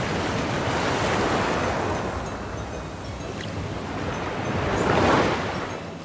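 Mediterranean surf rolls onto the Antalya coast in October, a broad, steady wash of waves swelling and receding, with wind buffeting the microphone.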